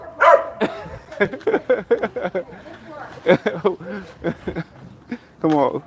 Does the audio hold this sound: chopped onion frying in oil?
no